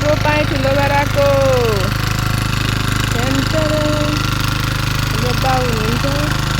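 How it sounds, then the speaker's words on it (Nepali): Tractor engine roaring steadily and loudly in a rice paddy during transplanting, a constant close rumble with a faint voice breaking through. "ट्र्याक्टर कराएर केही सुन्दै छैन।"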